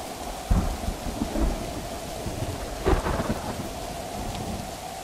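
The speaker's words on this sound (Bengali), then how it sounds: "এখন দেখছি এখানে ঝড় শুরু হয়ে গেছে।" A cartoon thunderstorm over a river: steady rain hisses throughout while two deep thunder rumbles roll in, one early and one near the middle, with no voices.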